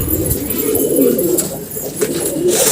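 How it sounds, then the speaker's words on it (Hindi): Pair of pigeons, one male and one female, cooing steadily at close range in low, rolling murmurs that run continuously without pause. "तो दोस्तों ये दोनों कबूतर हैं,"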